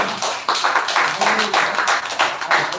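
A class of students claps for a student speaker in a spoken-English picture-telling lesson. The applause is dense and steady and carries on throughout, with voices mixed in.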